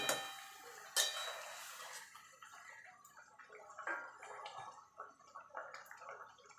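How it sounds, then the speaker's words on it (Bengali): A pot of Bengali parshe fish curry broth at a boil, giving off soft, irregular bubbling and plopping that stays faint and close, with no voices. "দেখুন বন্ধু ঝোলটা ফুটে গেছে এবার মাছগুলো দিয়ে দেবো"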